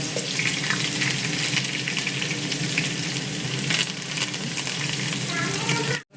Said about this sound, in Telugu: ఆయిల్ వేడెక్కాక మెంతులు, ఆవాలు వేసుకోండి